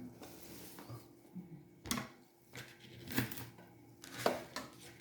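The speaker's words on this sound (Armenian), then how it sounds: "Կանաչին էլ կտրատենք։" A few sharp, separate knife chops of fresh herbs such as cilantro and parsley on a cutting board, spaced irregularly, against a quiet kitchen background.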